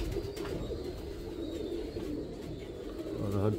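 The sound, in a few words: Teddy pigeon cooing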